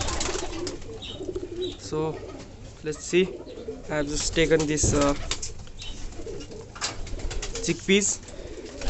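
Pigeons or doves coo repeatedly in a loft, several close birds calling in overlapping soft bursts, with a few brief wing flaps, while someone talks over them.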